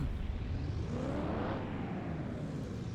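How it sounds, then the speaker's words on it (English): A Mercedes-Benz SLS AMG fitted with performance parts roars steadily at high revs, loud and close, a dense continuous engine note with a subtle pitch sweep and no voices. "Listen to that engine."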